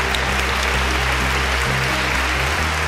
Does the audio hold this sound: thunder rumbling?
no